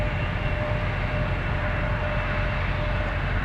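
An Air Canada Jazz Embraer 175 regional airliner at Toronto Pearson airport produces a steady, fairly faint jet rumble and roar that holds evenly throughout, without voices.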